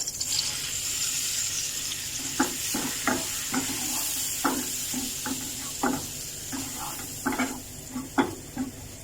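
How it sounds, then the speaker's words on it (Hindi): Flour fries in melted butter for a chicken veg Russian kabab, under a soft continuous sizzle, with a spoon stirring and tapping the pan in irregular close strokes. "अब इस मैदे को थोड़ा भूनना है, फ्राई करना है इसी में।"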